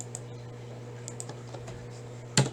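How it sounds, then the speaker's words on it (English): Soft, scattered keyboard taps over a low steady hum, ending with one louder sharp click near the end. "New line, and just start typing."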